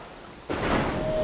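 Heavy rain begins suddenly and keeps pouring as a loud, dense hiss, with a low rumble that fits distant thunder.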